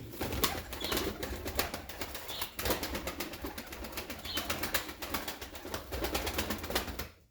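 Pigeons kept for flying coo softly amid repeated wing flapping and rustling, a busy, continuous flutter throughout.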